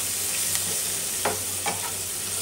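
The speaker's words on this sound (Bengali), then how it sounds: "পেঁয়াজ একটু ভাজা ভাজা হোক নাকি?" Onions fry in a pan with an even, close sizzling hiss and a couple of soft stirring scrapes across the brief stretch, and no voices.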